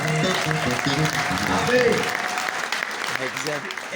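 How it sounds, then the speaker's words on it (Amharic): A church congregation claps together for the Lord, a dense, sustained applause over the whole stretch, with a voice speaking over it. "አጨብጭቡ ለጌታ"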